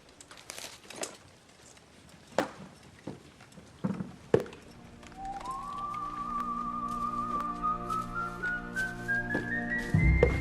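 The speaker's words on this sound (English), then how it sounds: "The music playing is a whistling song that reminds the audience of a Western movie" Whistled Western-style film score from Inglourious Basterds, a long sustained whistled melody rising in after scattered thuds and hoofbeat-like knocks, playing steadily with faint background sounds.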